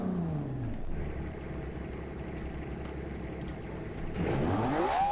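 Video game rally car engine, a Group A machine revving hard up to 11,000 rpm, with rising and falling harmonic sweeps, a steady high-rev drone through the middle and a loud climb toward the end.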